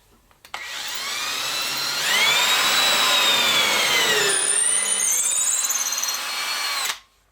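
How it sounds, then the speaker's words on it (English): A power drill bores a hole through a dowelling jig bushing, a loud close whine that rises in pitch and shifts as the bit cuts, running about six seconds before stopping, with no voices. "So I'm going to drill a hole here through just one of the bushings"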